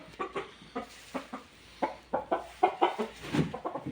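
Chickens cluck and a rooster calls nearby, a series of short irregular clucks with a few louder squawks, no talking.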